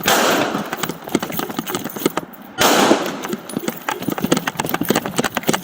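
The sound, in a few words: gunshots fired by police and suspect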